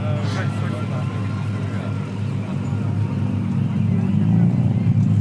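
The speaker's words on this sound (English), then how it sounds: "There goes one of the early Astons now. Let's just hear it." An early Aston Martin pulls away at a motoring event, its exhaust giving a low, throaty burble that grows slightly louder as it departs, with someone talking over it.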